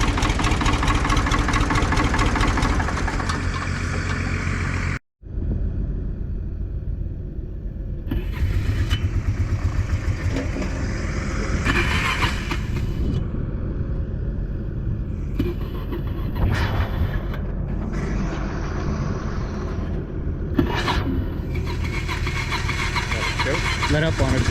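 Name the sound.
combine harvester engine idling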